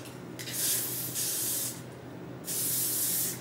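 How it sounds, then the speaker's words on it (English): A can of holding hairspray hisses in three close, loud bursts with short pauses between them. "holding spray."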